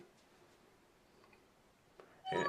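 A mobile phone notification sounds once, a short bright burst that breaks a quiet room hush near the end.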